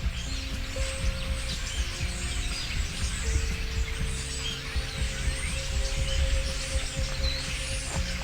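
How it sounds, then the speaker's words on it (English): Many birds chirp and call together from trees on a homestead farm, a busy continuous chorus of overlapping tweets over a low steady hum, moderately distant with no voices. "there are so many birds out right now"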